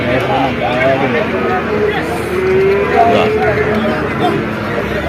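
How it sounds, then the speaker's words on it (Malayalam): Bulls and cattle at the busy Perumpilavu festival market low in long, deep moos beneath constant crowd chatter and nearby talking. "പെരുമ്പിലാവ് ചന്ത കാളകളുണ്ട് വലിയ മൂപ്പന്മാരായ കാളകളുണ്ട്"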